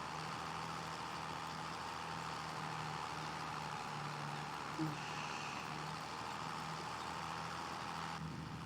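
An Agco tractor pulling a John Deere cultivator in Farming Simulator 25 keeps up a steady, even engine drone with a low hum throughout and no talking.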